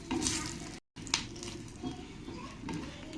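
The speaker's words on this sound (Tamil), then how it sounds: "அடுத்து நம்ம வந்து காஞ்ச மிளகாய் எடுத்து வச்சுருக்கோம் இல்லையா அதுவுமே இதில் ஆட் பண்ணி ஃப்ரை பண்ணிக்க போகிறோம்" Dried red chillies dry-roasting on a low flame for homemade bisi bele bath masala, a soft continuous sizzle with light stirring scrapes and clinks, close and fairly quiet, with a very short gap near the start.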